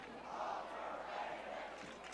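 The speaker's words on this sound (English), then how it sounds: "Crowd shouting overrated now." A football crowd at a high school game chants in unison, a distant, muffled roar of many voices rising and falling in a steady rhythm.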